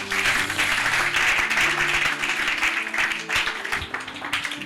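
A church congregation applauds and cheers in acclaim during a French-language worship service, a steady, loud wash of clapping that fills the room for several seconds without a break.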